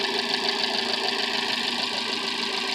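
A Fiat 500 engine running after a battery drained from sitting for weeks, a steady close idle with a knocking mechanical rhythm and vibration throughout, no voices.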